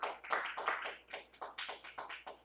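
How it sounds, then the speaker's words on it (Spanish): Rhythmic hand clapping from a church congregation praising the Lord, a steady series of claps about twice per second, moderately close and fairly loud, with no talk over it. "Denle un aplauso al Señor, por favor."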